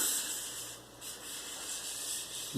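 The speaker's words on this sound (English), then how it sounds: "getting that edge to be truly flat on the sandpaper." An axe edge rubbed flat on sandpaper gives a steady, soft abrasive hiss that runs the whole time at low level, with a faint thump near the end.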